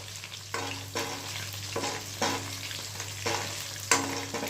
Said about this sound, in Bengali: এটাকে আমি লো ফ্লেমে কিছুক্ষণ ভাজবো